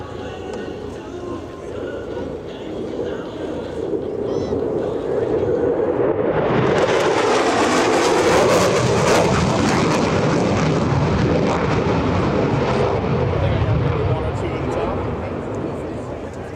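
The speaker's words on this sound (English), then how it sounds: "from the right, the Super Hornet photo pass." An F/A-18F Super Hornet makes a photo pass at an airshow, its jet roar building from a distant rumble to a loud, sustained close flyby that fades slightly at the end, with crowd and commentary beneath.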